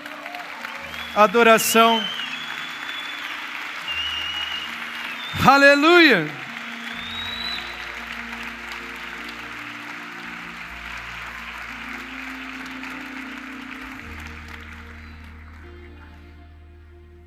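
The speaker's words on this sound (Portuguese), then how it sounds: "Ele é digno de um aplauso" Congregation applause during a church service, a broad sustained wash of clapping that slowly fades away, while a preacher's voice rises above it in short shouted bursts.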